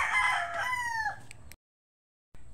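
Rooster crowing at a chicken farm breeding area, one loud close cock-a-doodle-doo followed by brief silence and a faint resumption of farmyard sound.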